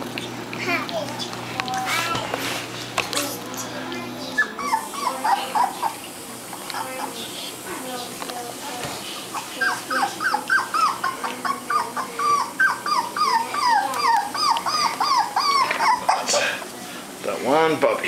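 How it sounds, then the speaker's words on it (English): A young puppy whimpers and cries for its mother in a rapid string of high, wavering yelps that grow more insistent, while people talk nearby. "This one's just crying for his mom"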